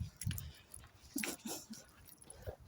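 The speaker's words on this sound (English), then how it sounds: "leaving dangerous dogs outside the co-op" Dogs left tied outside a co-op shop on a morning walk, giving a few faint whimpers and short yips, heard from nearby amid light street noise.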